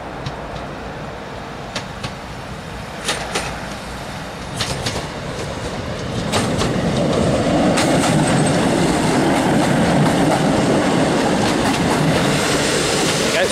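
A Class 156 diesel multiple unit, 156419, pulls slowly out of Lowestoft platform 2 over points, its rumble swelling steadily with rhythmic wheel clicks and clanks, fairly close and continuous.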